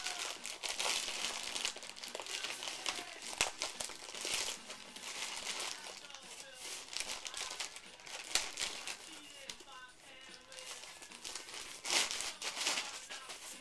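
Tape on a package is cut and torn open, giving continuous close crinkling and ripping of packaging under someone speaking.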